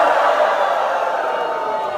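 Small group cheering at the end of a filmed stunt, a short close burst of mixed shouts and whoops that gradually fades.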